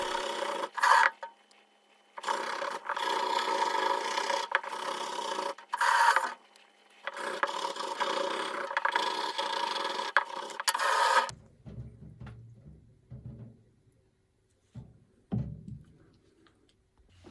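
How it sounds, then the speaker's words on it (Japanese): Steady rasping scraping of rust off a kitchen knife blade in long continuous strokes with brief pauses, followed by quieter scattered clinks and handling noises. "裏面も同じように錆を取っていきます。"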